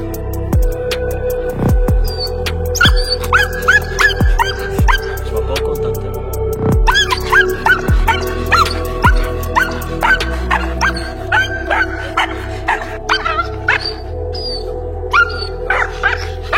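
A dog barks, yips and whimpers in repeated sharp bursts after its muzzle comes off, loud and close, with short pauses and some tonal whining between barks.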